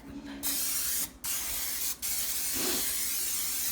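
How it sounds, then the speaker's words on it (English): Cooking spray hisses out in a few quick bursts, each a sharp airy spray with brief gaps between them. "Now I'm gonna spray this a little bit."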